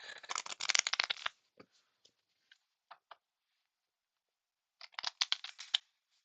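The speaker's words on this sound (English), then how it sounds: "We're going to give this a shuffle." A large oversized deck of artifact cards riffle-shuffled at close range in two bursts, each a dense flurry of crisp card flutters, with a few sharp taps and clicks between them.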